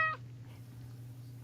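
A cat's meow, not from the real cat, sounds once as a short, clear cry at the very start, then fades under a steady low hum for the rest.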